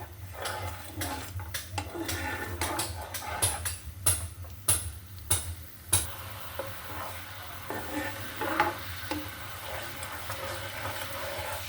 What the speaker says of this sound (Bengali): সেজন্য শব্দ হচ্ছে কিছুই করার নেই আরেকটু আরেকটু ফুটবে মশলাটা